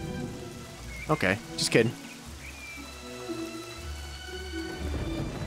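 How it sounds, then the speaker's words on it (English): Steady rain in the video game Fable Anniversary, with a low thunder rumble underneath, heard throughout while someone briefly talks over it. "It's raining."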